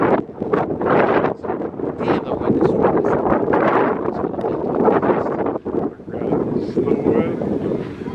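Outdoors at a baseball setting in Aruba, strong wind buffets the microphone with loud, continuous rumbling gusts that last the whole stretch.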